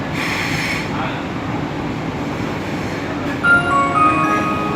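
Interior of a Lucknow metro train car running between stations near Alambagh bus stand, a steady loud rumble of wheels and motors throughout, with a brief rise and faint squeal near the end.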